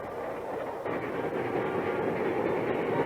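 A train passes in a short film, a steady broadband rumble and rush that holds loud and even throughout without letting up.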